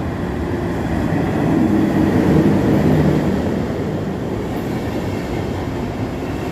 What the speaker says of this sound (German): kommt auf Gleis 4 durch eine Baureihe 120 von DB